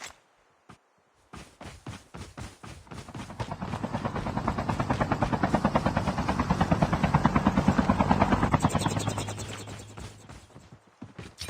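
A helicopter in the Call of Duty Mobile battle royale co-op mode arrives with a rhythmic rotor chop that swells steadily from faint to loud and close, then fades near the end, with no talk over it.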